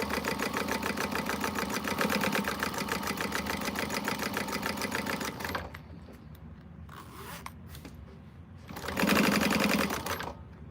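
A sewing machine runs a long, fast basting stitch along a quilted pocket, a steady loud mechanical whir that halts midway, then starts again briefly near the end.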